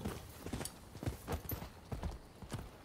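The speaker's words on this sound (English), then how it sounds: "Come, horsey." Horse hooves clip-clopping at a walk in the Rise of the Ronin video game, a steady run of soft, moderately near hoof thuds with no talk over them.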